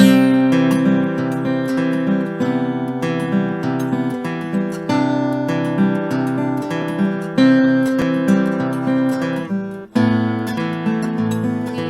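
A solo acoustic guitar plays a steady fingerpicked pattern of plucked notes, clear and close, with a brief pause near the end before it resumes.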